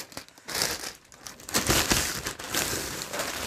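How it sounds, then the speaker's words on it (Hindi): Polythene plastic wrapping is pulled off a new audio cassette tape deck during unboxing, with close, loud crinkling and rustling in irregular bursts. "इसकी जो पॉलीथीन है इसके बाहर निकालते हैं"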